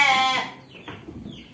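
A sheep bleats nearby on a village farm, one wavering harmonic call for about a third of a second, then fades into quiet farmyard background with faint scattered noises.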